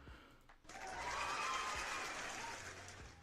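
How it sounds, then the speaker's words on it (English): Hand clapping rises after a brief pause into a sustained burst of applause-like claps, close and moderately loud, fading slightly toward the end. "I had to clap for that."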